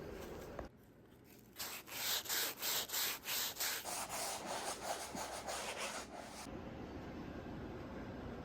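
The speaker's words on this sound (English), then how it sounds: "So I'm gonna sand and prime today." Sandpaper rubbing across a painting surface in a studio, starting after a short pause with rhythmic back-and-forth strokes, then settling into a steadier, continuous scratchy rasp that stops near the end.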